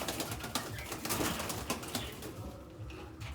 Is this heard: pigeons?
yes